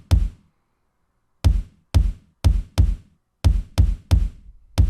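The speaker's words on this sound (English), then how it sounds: "I didn't place the Icarus kick, but it sounds like this." Icarus kick drum pattern in a hyperpop beat, heavy booming low hits with a brief noisy attack, repeated in an uneven rhythm after a short pause, close and dry, nothing else audible.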